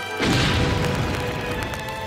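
A cartoon explosion effect from a 1960s-style animated show promo bursts in with a sudden loud boom, then a rumbling crash slowly fades over a couple of seconds.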